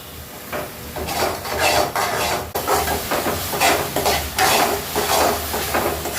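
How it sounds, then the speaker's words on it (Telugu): Spicy chicken gravy with tomatoes and onions being stirred in a pan, a spoon scraping and clattering against the metal in steady repeated strokes over a constant close sizzle. "అప్పటి వరకు కింద మాడకుండా తిప్పుతూ ఉండాలి"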